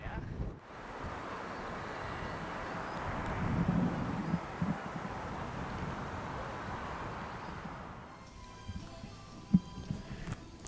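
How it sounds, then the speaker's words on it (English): Strong wind roars across the microphone on the Isle of Man for most of the stretch, easing briefly near the start and again toward the end. "Windy."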